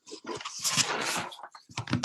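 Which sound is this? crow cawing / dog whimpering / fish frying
dog whimpering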